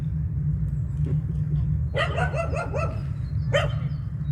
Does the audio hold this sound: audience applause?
no